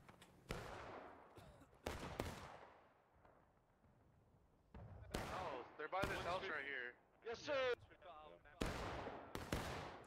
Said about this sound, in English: Nice shooting, boys. Nice shooting.